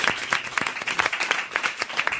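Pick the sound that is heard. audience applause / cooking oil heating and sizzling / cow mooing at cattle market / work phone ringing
audience applause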